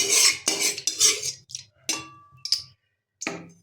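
Hot mustard oil is swirled around a metal kadai, giving a series of close clinks, scrapes and short metallic knocks in uneven bursts with brief pauses between.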